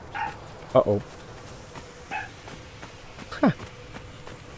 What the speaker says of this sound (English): Well, that's my dog.